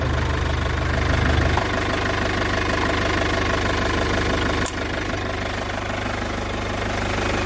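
A car engine idles steadily up close, a continuous low rumble with faint rhythmic knocking, unbroken throughout with no voices.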